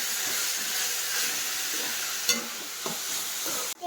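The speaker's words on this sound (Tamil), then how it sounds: "இப்போ இதை நல்லா கலக்கிடலாம் ஃப்ரெண்ட்ஸ்." Green chillies and curry leaves sizzle in hot oil for vada curry while being stirred in a pan, a steady close hiss broken by a few sharp scraping clicks of the spoon, with no talking.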